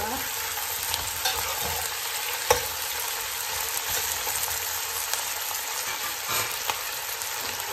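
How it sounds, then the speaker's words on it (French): Chicken and shallots frying in a pan for a chicken, mushroom and coconut milk dish, a steady close sizzle with soft scraping as a utensil stirs, and no talking. "Je vais rajouter les échalotes. Je vais mélanger le tout"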